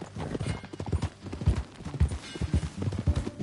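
Horse hooves clip-clop in a steady walking rhythm in Red Dead Redemption 2, close and clear, with a faint snort now and then.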